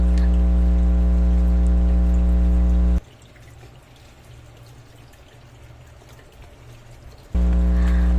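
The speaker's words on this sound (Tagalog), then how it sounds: "nagpa-prepare ako ng tubig sa bowl" Water pours into a bowl while bitter gourd (ampalaya) is prepared in a home kitchen. A steady rushing flow runs for a few seconds between stretches of loud, steady droning hum.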